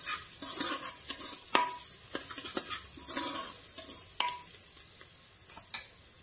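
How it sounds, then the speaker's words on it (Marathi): Onion and turmeric sautéing in a pan for mutton rice with desi ghee, with a steady sizzle and a spoon scraping and stirring in repeated sharp strokes, close and clear, with no talking. "यात आता आपण अर्धा चमच हळद घालून घेऊ। हळद पण चांगली परतवून घेते।"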